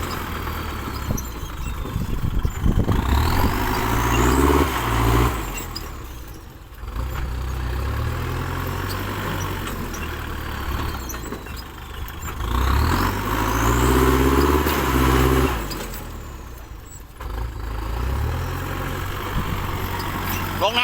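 A tractor engine runs at a muddy worksite, a steady low rumble that swells and eases in rough cycles while a voice talks over it.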